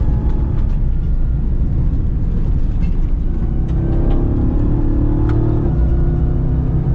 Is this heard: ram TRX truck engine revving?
yes